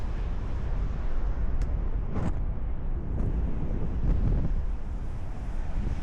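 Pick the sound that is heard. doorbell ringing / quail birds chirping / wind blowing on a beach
wind blowing on a beach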